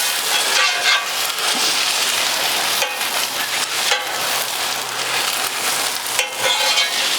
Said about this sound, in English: I'm gonna wipe the oil around